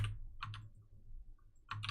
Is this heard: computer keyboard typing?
yes